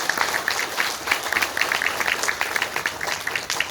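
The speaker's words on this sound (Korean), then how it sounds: "박수 한 번 좀 부탁드리겠습니다" Guests at a Korean nature conservation council anniversary ceremony give a short round of applause, a fairly soft, even patter of clapping from a seated crowd.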